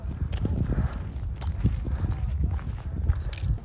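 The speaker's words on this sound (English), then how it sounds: "So this is another place where traveler can hire their horse." Horse hooves clip-clopping on a trekking trail at a horse-hire spot on the Mount Kailash trek, steady close footfalls over low outdoor rumble, with faint voices mixed in.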